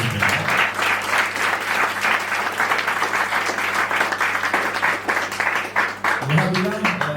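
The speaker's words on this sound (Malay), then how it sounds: "marilah kita bagi tepukan yang paling gemuruh untuk tamu kami." Thunderous applause for visiting guests from students at a school STEM event at SMK Mat Kilau, a loud continuous crowd of clapping throughout, with a voice briefly audible near the end.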